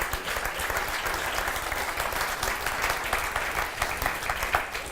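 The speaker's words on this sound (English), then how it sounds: "Please give another round of applause." Sustained, steady applause from a live audience at a book event featuring thriller authors, dense clapping filling the room for the full length with no talk over it.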